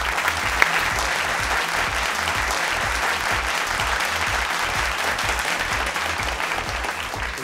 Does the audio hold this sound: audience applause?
yes